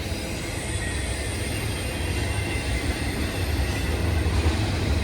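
A long freight train carrying shipping containers rumbles steadily past at close range on the Appalachian Trail, wheels clattering on the rails with a constant low roar and a faint high squeal.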